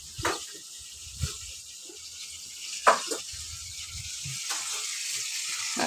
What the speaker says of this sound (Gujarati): ગુરુવાર દિવસ એટલે સૂકી ભાજી વઘારે છે